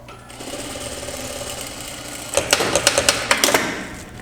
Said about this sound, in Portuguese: agora eu costurei os dois ganchos, frente com frente, costa com costa